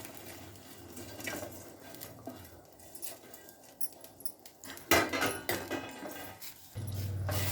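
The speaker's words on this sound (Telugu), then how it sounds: "ఉడికిన నీళ్ళల్లోకి మ్యాగీ వేసుకుందామండి." Maggi noodles drop into a pot of boiling water with light clinks, rustles and patter, followed by a few louder knocks and a steady low bubbling at the end.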